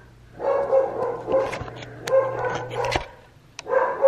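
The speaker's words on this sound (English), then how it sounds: "Sorry if you can hear Berkeley barking in the background" A dog barks repeatedly in short bursts, some whiny and high, fairly close, with a low steady hum underneath.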